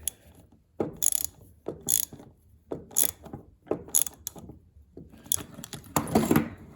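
A ratchet tightens a fastener on a HiPA carburetor fitted to a small-engine lawn mower, giving several close, distinct bursts of rapid metallic clicking separated by short pauses.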